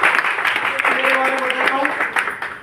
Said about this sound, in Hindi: सभी के लिए जोरदार तालियां।